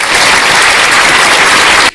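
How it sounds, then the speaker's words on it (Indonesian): Loud, dense applause from a crowd at a religious talk, a continuous wash of clapping for about two seconds that cuts off abruptly. "tepuk tangan"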